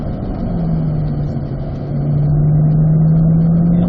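A Corvette engine on a race track holds a loud, steady drone that rises in pitch as the car accelerates, close and continuous for the whole stretch.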